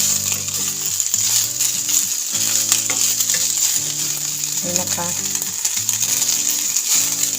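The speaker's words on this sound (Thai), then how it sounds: "ผัดกับน้ำพริกพริกแกงนะคะทุกคนจ๋าผัดกับพริกแกงนะคะ" Chicken being stir-fried with Thai curry paste sizzles steadily and loudly throughout, with scraping stirs mixed in and someone briefly speaking over the cooking.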